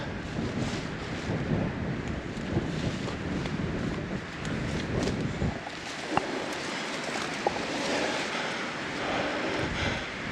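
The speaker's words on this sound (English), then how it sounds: "Man, this wind is picking up." Strong wind blows outdoors on a mountain track at Mt Lindesay, Queensland. It makes a steady, rushing roar with buffeting gusts against the microphone and no voices.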